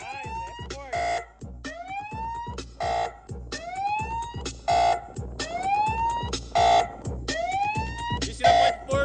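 A powerful car sound system in a Chevrolet Astra blares music at high volume, close and loud, with repeating siren-like electronic sweeps over pounding bass and no talk.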